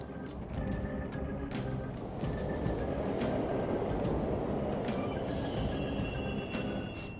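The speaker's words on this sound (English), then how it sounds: "The trains are totally running!" A subway train rumbles steadily in Persona 5 Royal, a dense, continuous roar with repeated sharp clacks and a few high whining tones over it, fairly loud and without voices.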